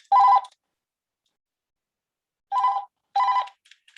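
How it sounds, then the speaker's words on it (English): A mobile phone rings loud and close in three short, bright bursts with near silence between them, and no voices. "my phone's ringing"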